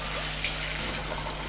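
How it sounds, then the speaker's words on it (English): Rinse liquid poured steadily into a Paterson film developing tank, a continuous close splashing trickle of water with a low electrical hum underneath and no speech. "into the tank till it overflows."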